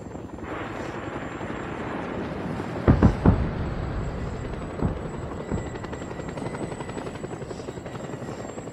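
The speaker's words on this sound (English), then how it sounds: "This plane, the helicopter, can give me a ride." A helicopter in the video game Just Cause 2 drones with a steady rotor buzz throughout, broken by a few sharp thumping bursts a few seconds in and softer knocks later, with no talking over it.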